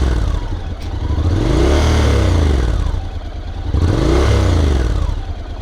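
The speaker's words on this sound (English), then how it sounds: "I'll rev it up a little bit so you can hear what it sounds like." Honda NC750X DCT motorcycle revved twice while standing, each blip a quick climb and fall in engine pitch from a loud, close exhaust note, with a steady idle between.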